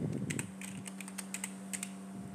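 Rapid close clicking of keys on a computer keyboard while entering an Excel formula, irregular taps over a steady low hum.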